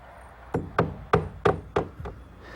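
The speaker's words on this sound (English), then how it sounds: "I can tack it in place and mark the top" Six sharp, evenly spaced hammer blows tack a wooden rake board of a garden shed into place, close and loud, each strike a solid woody knock that fades quickly, with the final one softer.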